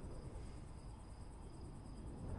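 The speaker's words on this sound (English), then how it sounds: "I can hear the crickets." Steady cricket chirping in a video game fills the background, a continuous high trill with a low rumbling hum underneath and no voices.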